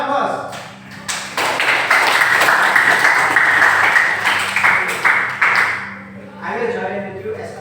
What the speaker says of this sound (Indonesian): Please applause to Alan first